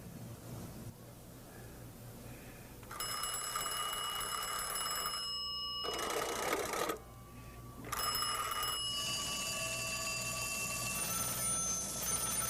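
Electric telephone bell rings in long bursts, loud and close, separated by short pauses, with a low background hum throughout.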